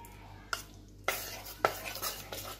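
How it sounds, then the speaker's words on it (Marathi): Idli batter with dry fruits being stirred in a bowl, a few soft scraping strokes and light knocks of the spoon against the vessel, close and fairly quiet with no talking. "चांगलं एकजीव करून घ्यायचं आपल्याला."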